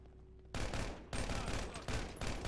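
Gunfire in a video game bursts in abruptly as loud, rapid automatic shots, breaking into three close, sustained volleys separated by brief gaps, with no voices.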